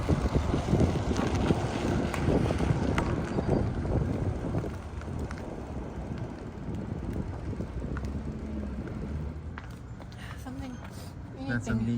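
Steady headwind and crosswind of 20 to 30 km/h roars across a microphone while cycling, a loud continuous buffeting rush with few gusts, easing slightly toward the end.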